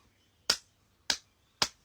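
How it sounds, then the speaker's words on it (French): Three sharp, separate hand claps spaced about half a second apart, close and crisp against a quiet background. "j'applaudis."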